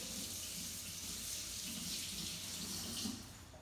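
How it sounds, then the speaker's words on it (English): Tap water runs steadily into a kitchen sink as hands are rinsed, a soft constant splashing hiss that eases off near the end. "I'm going to rinse my hand off."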